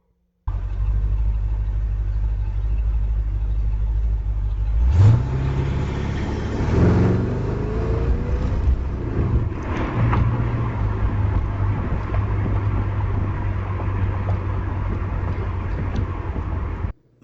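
A car driving, captured by a VIOFO 4K dash cam: a steady low engine and road drone runs throughout, with a thump and a brief rising engine swell partway through as it gets moving.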